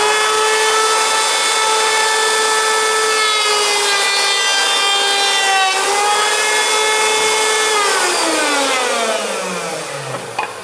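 A router table with a router bit spinning up: a loud, steady high-pitched whine that holds close and constant, then drops in pitch as the motor winds down near the end.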